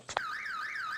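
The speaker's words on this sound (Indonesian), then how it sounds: "Pagi itu, alarm yang keras membangunkan Chang-ho dan istrinya Go Mi-ho." A loud electronic alarm rings in a morning scene of a Korean film, a warbling siren-like tone sweeping steadily up and down after a couple of short clicks.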